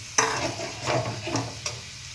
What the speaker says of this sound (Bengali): এইবার আমি নেড়ে কপিটাকে একটু সামান্য সেদ্ধ করতে হবে